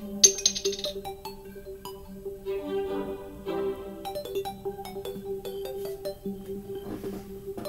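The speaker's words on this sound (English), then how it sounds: "someone texted me." A phone text message notification chimes with short bright tones near the start, followed by faint tonal pings over quiet background sound during a Terraria game session.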